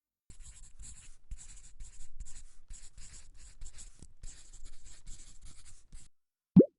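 Pen or chalk scratches out a maths equation in short, faint strokes, a series of soft scribbling bursts with brief pauses between them and a single sharp tap at the end.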